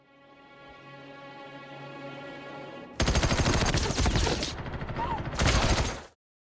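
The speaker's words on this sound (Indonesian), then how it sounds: "Setelah seorang pria datang, ia segera menembakkan peluru dengan brutal ke tempat tidur." A movie scene in which a man brutally fires round after round into a bed: a sustained tonal drone plays first, then a sudden, loud barrage of rapid shots that breaks once and resumes before cutting off abruptly.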